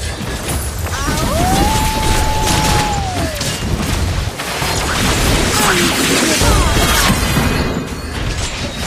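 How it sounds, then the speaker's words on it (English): A turret is destroyed in the Mobile Legends video game, a dense cluster of crashing impacts, booms and clanking mechanical effects with a brief whistling tone, layered over busy battle sounds. "Your team destroyed a turret."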